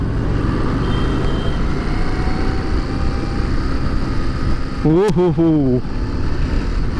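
A Harley-Davidson Street Rod motorcycle rides through Mumbai traffic, its engine a steady rumble under wind and road noise, with a nearby horn blaring briefly toward the end and a person giving a short exclamation.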